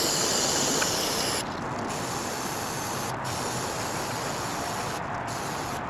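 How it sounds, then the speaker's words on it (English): Brake cleaner sprayed onto the brakes of a worn Suzuki GSX-R motorcycle during track day pad prep, a steady close hiss broken by a few short pauses. "And one more round of brake cleaner."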